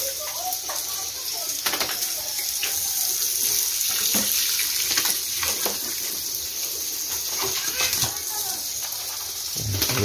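Water from a hose or tap splashes steadily over a piglet on a pig farm, a continuous close spray with intermittent splatter bursts while a few faint voices and birds sound in the background.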